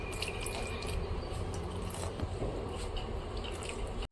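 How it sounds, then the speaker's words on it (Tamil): Water poured into seasoned flour for omapodi dough, a steady trickling splash with faint wet squishing and drips, close but quiet, continuing for several seconds with no talking. "இப்போ தேவையான அளவு தண்ணி ஊற்றிக்கலாம்."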